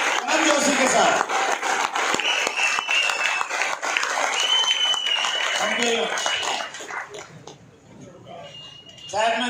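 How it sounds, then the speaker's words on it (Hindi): At an RCM Business gathering in Aurangabad, an audience applauds loudly to welcome guests, with clapping mixed with voices and shouts. The sound is dense and sustained at first, then thins out. "एक बार फिर बहुत जोरदार तालियों के साथ हमारे मेहमानों का स्वागत करते हैं"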